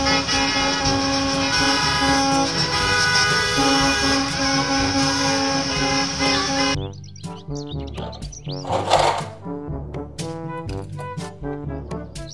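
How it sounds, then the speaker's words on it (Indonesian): Toy school bus honking its horn, following a loud, sustained tonal electronic toy sound that cuts off about two-thirds through, then several short bright honks and chirpy tones close by. "Mobil bus sekolah."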